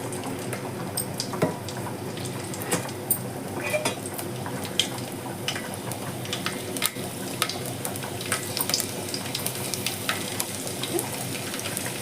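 Garlic fries in hot oil for a tempering for drumstick dal rasam, a continuous moderate sizzle dotted with frequent small pops and occasional clinks of a utensil against the pan.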